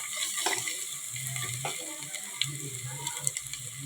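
Chicken fry is stirred in a hot pan, its sizzle rising and falling as the spoon pushes the pieces around, with a few sharp clicks against the pan, close and moderately loud, no voices.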